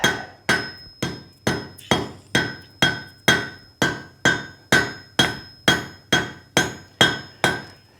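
A hammer strikes hot steel on an anvil during a forge weld for a meat hook, about sixteen loud, evenly spaced ringing blows at a steady rhythm, each with a bright metallic clang and short decay, with no talk.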